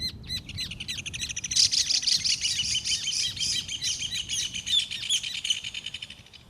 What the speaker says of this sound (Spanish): En este sonograma vemos el canto del macho en la parte superior y la hembra en la parte inferior.